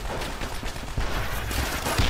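Gunfire in Call of Duty: World at War, a dense, continuous fusillade of rifle and machine-gun shots with heavy low-end thumps, loud and close throughout with no voices.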